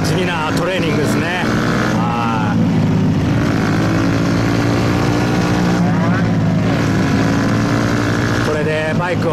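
Suzuki GSX-R125 motorcycle ridden during a riding lesson, with the engine humming steadily and its revs swelling and easing as it circles, close and loud throughout, with voices talking over it.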